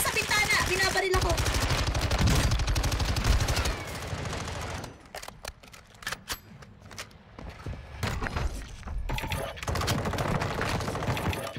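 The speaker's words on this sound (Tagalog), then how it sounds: "Binabaril ako!" Bursts of automatic gunfire in a tactical shooting video game, loud rapid fusillades up front, then sparser single shots and mechanical clicks, with players talking excitedly over the action.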